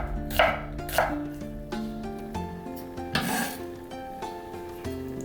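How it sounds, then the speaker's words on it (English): A knife slices an onion thinly while preparing Korean spicy pork, giving a handful of crisp, spaced chops close by over steady background music. "Onion, slice thinly."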